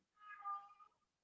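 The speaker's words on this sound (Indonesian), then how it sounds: "Ini ada suara kucing ya." A single soft cat meow indoors, faint and brief, heard alone without talk.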